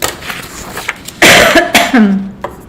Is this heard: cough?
yes